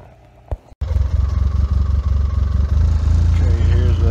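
A generator running with a steady, rumbling mid-pitched engine hum. It starts abruptly after a short quiet pause and a brief knock, then continues loud and close with a faint voice.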